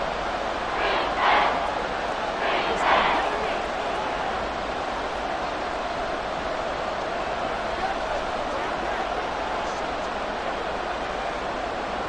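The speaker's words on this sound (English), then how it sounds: "The Arrowhead crowd in full roar." Stadium crowd at Arrowhead roaring steadily in Madden 24 during a Dolphins–Chiefs wild card game, a broad continuous wash of noise with a couple of brief swells, a commentator's voice rising over it early on.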